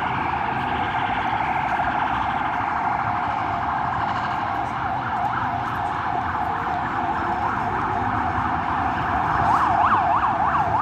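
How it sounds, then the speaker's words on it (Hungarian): Emergency vehicle siren wailing in a city street, its rising and falling tone cycling steadily over the rumble of traffic and growing louder toward the end as it passes close by. "Na bocsánat, csak egy sziréna kellett."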